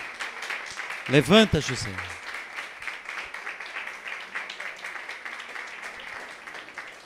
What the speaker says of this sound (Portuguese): Eu peço uma salva de palmas para todos os homens que estão aqui.